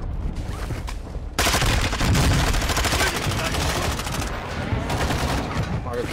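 Loud, dense gunfire from an assault rifle in an online shooter game, a sustained rattling burst kicking in after a quieter opening, with a player's voice faintly under it.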